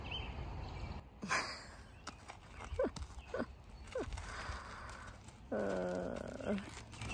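Horse moving close by, with irregular hoof thuds and clops, snorts and breathy sounds near at hand, and a louder rough exhalation toward the end.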